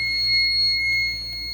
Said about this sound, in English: the panel just went into an alarm because the pull station is activated